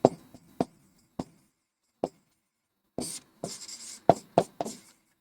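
Pen on paper as a math solution is written out by hand, a series of short scratchy strokes separated by pauses, closer together and busier toward the end, heard alone and close.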